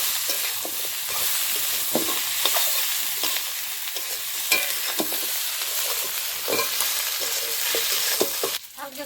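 Fish heads and potatoes sizzle and fry in a pan of Bengali fish head curry after a splash of water, with steady crackling and occasional stirring scrapes running throughout before a brief drop near the end.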